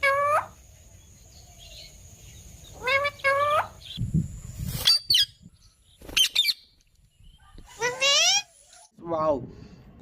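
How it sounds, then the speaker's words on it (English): A talking parrot with a very long tail gives several bursts of shrill, warbling calls and chatter, some voice-like, separated by pauses, close and fairly loud over a low background rumble. "look at this very amazing the talking parrot here"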